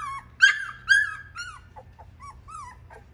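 A tiny Schnoodle puppy, nearly three weeks old, gives a few high squeaks and thin whines in short bursts, close and quiet against a soft low hum.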